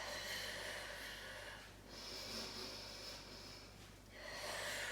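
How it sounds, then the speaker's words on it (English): Breaths are drawn in and pushed out during a pilates stretch: two long, close, airy exhales separated by a quieter gap, with slightly nasal, snort-like edges. "and breathing out."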